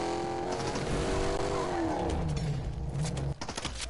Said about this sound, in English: I wish I had a car that sounded like that for real